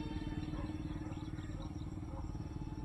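An SG-F22 RC jet fighter model runs at full throttle, a steady, loud, continuous buzzing drone with a pulsing low rumble that holds level throughout, with no talk over it.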